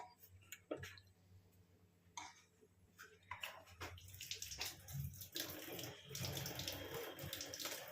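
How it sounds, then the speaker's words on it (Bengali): Water is poured into a pan of black chickpea curry, starting with a few faint splashes and clinks, then a fuller, louder pouring and bubbling in the second half, fairly quiet and close. "তার মধ্যেও আমি এটাকে আর একটু জল দেবো, দিয়ে একটু কম হিটে বসিয়ে রেখে দেবো।"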